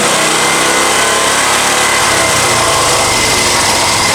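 Honda EX1000 generator engine running loud and continuous at only half throttle, a steady, close mechanical drone that struggles slightly, with no talking over it.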